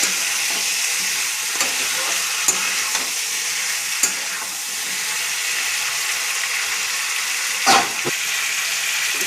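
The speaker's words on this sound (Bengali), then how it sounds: "একটু নাড়বো, কষাবো ভালো করে।" A curry of stems, potato and spice masala is stirred and sautéed in a frying pan, with a continuous sizzle throughout. Scattered clinks and scrapes from the spoon fall irregularly, and a louder scrape comes near the end.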